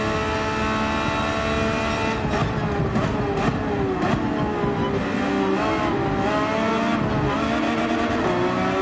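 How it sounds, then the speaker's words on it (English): Race car engine in Gran Turismo 7 at Monza, screaming loud and continuous at high revs, pitch rising and dipping through gear changes and bouncing off the rev limiter, with faint tyre squeal and no talking. "Oh, we over-revved, otherwise we would have closed up that gap."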